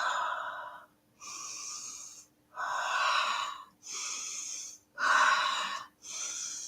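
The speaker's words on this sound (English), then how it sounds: "You do 10 breaths in. Deep breath." Six deep, slow breaths in a guided stress-relief breathing exercise, each a loud, airy inhale or exhale of about a second, separated by brief pauses, heard close and alone with no talking.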